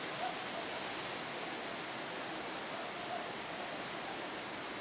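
Small waves break and wash onto a beach in a steady, broad seaside roar heard from a distance, with no clear individual crashes standing out.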